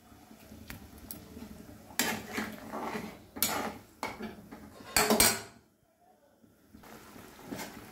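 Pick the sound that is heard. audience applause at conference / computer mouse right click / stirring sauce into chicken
stirring sauce into chicken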